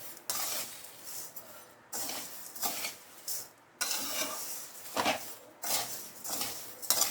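Moong dal roasts dry in a pan for pongal, stirred in repeated scraping bursts with metallic spoon-on-pan clinks and light sizzle between short pauses, close and moderately quiet.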